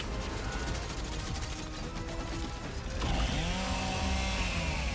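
A Chainsaw Lancer from the Gears of War video game grinds and revs in a harsh mechanical whir, rising louder and rougher near the end.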